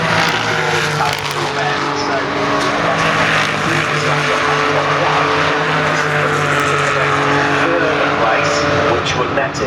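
GT race cars at full speed around Brands Hatch during a British GT event, with loud, sustained engine howls and shifting pitch, heard under continuous commentary.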